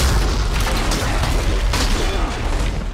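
Towers firing in the Lord of the Rings: The Return of the King video game, heard as a steady rumbling barrage of booming shots with a couple of sharper bursts, loud and continuous throughout.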